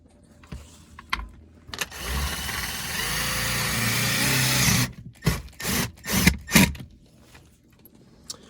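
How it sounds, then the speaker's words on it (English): A power drill whirs steadily for a few seconds, then several short bursts follow as screws are driven, with light clunks in between. "I'm gonna take my drill, the screws, and I'm going to secure it"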